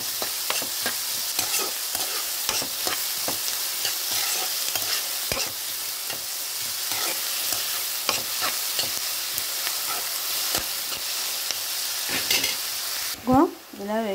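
Sliced onions fry in a pan with a steady sizzle while a spoon scrapes and stirs them in repeated, brisk strokes, close and clear throughout.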